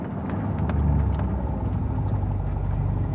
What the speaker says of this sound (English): we're going to hit these brakes good and see what happens